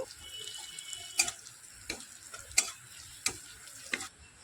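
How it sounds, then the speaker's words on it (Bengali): A spoon scrapes and taps in a pan in short, separate strokes as turmeric powder and spices are stirred, over a soft background hiss, with no voices. "মশলাগুলো একটু হালকা করে নাড়াচাড়া করে নেব"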